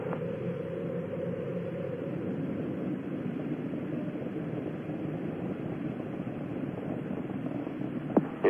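Space Shuttle Challenger's main engines roar during ascent after clearing the tower, a steady, dense, broadband rumble that holds unbroken throughout, with a faint click near the end.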